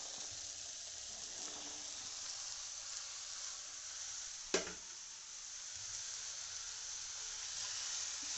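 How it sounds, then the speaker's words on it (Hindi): Potatoes, chickpeas and mushrooms sizzle gently in a pan of roasted masala, a steady soft frying hiss broken by one sharp clatter midway, with no talking. "मसाला मेरा भुना चुका है, जिसमें मैं आलू, चना, मशरूम इसके साथ डाल दूंगी"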